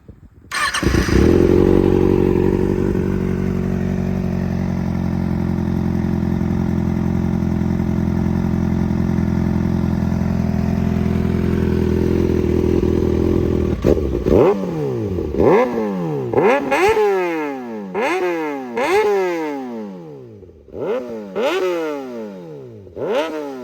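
A 2022 Kawasaki Ninja ZX6R sport bike starts warm and idles loudly and steadily, then gets a series of sharp throttle blips that rev up and fall back, close by with no talk.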